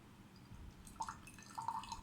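Brewed 2008 Dayi 0532 ripe pu-erh tea is poured, giving a faint, soft trickle with a few light drips in a quiet room.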